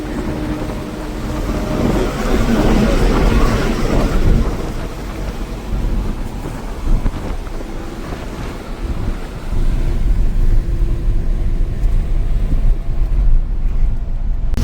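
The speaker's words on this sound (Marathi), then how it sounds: "बघू शकता त्याचा पाऊस पडत आहे" Unseasonal rain pelting a moving truck hauling mangoes on the road to Bengaluru: a loud, close, continuous wash of water and road rumble with heavy wind buffeting, easing briefly midway.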